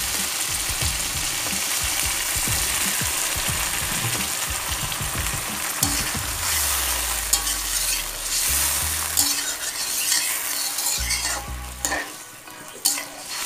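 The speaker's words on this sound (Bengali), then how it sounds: "এবার কিন্তু আমি পরিমাণ মতন জল এখানে অ্যাড করে দিচ্ছি।" Eggplant and catla fish curry cooking in a pan as water is added, with steady bubbling, sizzling and stirring scrapes, a low rumble running beneath and several brief louder bursts toward the end.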